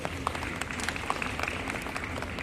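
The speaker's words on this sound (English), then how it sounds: "give them a round of applause for their generous spirit" A conference audience gives brief applause during a speech, a short burst of scattered clapping with a few crisp individual claps popping out of a low, busy room ambience.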